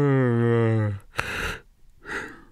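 A man yawns aloud at close range: a drawn-out voiced yawn with a falling pitch, then two breathy exhales or sighs as it trails off, with no other speech in the moment.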